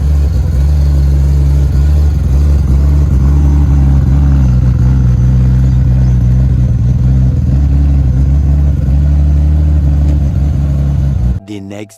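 Cammed Nissan R31 RB30 engine with a 3582 turbo revving hard on a dyno, a loud, steady sustained drone held close for most of the stretch before cutting off abruptly near the end.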